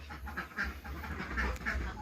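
Farm ducks being fed chopped banana stalk mixed with feed give a few scattered, nearby quacks over a low background rumble.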